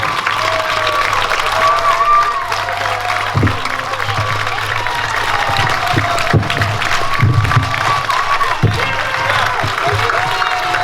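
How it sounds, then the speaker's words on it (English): An outdoor gathering crowd claps and cheers steadily, a dense wash of applause with scattered shouts running under and between talk. "Yeah, keep clapping, yep."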